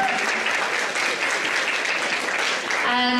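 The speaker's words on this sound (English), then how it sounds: "I'd like to give you guys a round of applause" Sustained applause from an audience at a women's empowerment event, a dense continuous clapping roar filling the whole stretch, steady and fairly loud, with no voices standing out.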